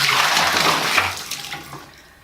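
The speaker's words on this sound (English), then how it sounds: "So I'm just gonna plunge this a few times and then toss out the water." Cloth diapers plunged in a bucket of water make loud sloshing and churning splashes, strongest at first and then tapering into quieter drips over two seconds.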